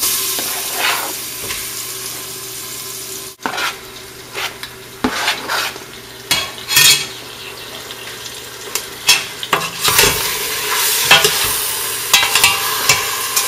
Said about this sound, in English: Saute the meat with the onion.